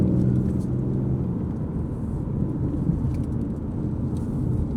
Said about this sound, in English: this is the best sounding V6 there is